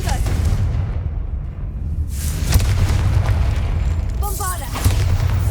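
Confringo spell blasts in the action role-playing game Hogwarts Legacy, with loud booming explosions over a rumbling battle backdrop and a voice speaking amid the chaos.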